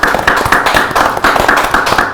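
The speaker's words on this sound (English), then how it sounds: "Let's have a huge round of applause for the whole band" Sustained clapping from an audience greeting a band, a dense, steady patter of many hands that stays loud and close throughout without any voices over it.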